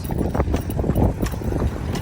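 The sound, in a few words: horse hooves clip-clopping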